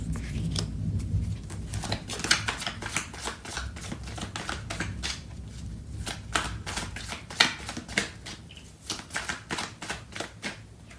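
Tarot cards being shuffled and drawn by hand: a close, continuous run of crisp riffling taps and flicks with irregular sharper snaps, fairly quiet and with no speech over it.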